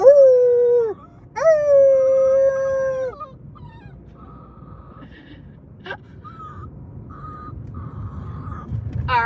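Long, sliding howls from people imitating a wolf, two loud drawn-out calls up front, followed by quieter yelps over a low engine rumble.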